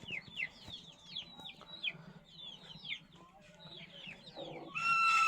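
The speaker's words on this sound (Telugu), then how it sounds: "ఇక్కడ ఒక కోడి ఉంది చూడండి" A hen clucks softly amid a flurry of high, rapid chick peeps nearby, ending in a sudden louder squawk.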